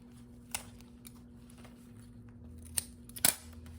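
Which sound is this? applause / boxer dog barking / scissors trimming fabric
scissors trimming fabric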